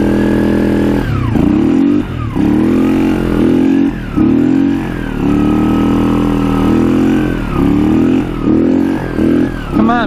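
A Polaris Scrambler 500 4x4 quad's engine runs loud and close, idling and repeatedly revving up and dropping back while its CV axle spins with the front wheels not turning.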